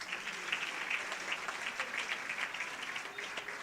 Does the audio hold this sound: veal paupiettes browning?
no